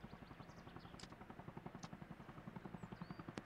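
Helicopter flies at a distance, its rotor thumping in a fast, even rhythmic pulse that stays faint but steady throughout.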